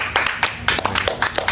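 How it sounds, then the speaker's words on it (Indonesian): Several people clap their hands in a short, loud, irregular burst of sharp claps, recorded indoors during a school podcast introduction. "Tepuk tangan dulu dong."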